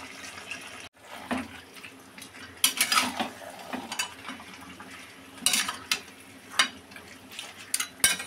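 Kochu shak (taro greens) with rui fish heads and frying oil stirred in a pan, giving soft scraping and clattering bursts of spoon against metal, irregular and moderately close, with no one speaking.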